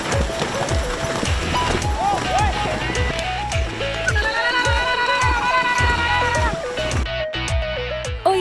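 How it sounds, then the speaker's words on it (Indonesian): Water buffalo racing in an arena in West Sumbawa, with a rhythmic pounding of running hooves and crowd noise under a loud, continuous mix of voices and music throughout. "di Sumbawa Barat ada karapan kerbau atau barapan kebo."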